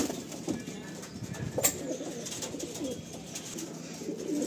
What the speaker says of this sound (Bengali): এই যে পায়রাগুলো আমি ছাড়লাম।